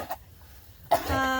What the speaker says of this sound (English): Got a little cough, maybe some coronavirus.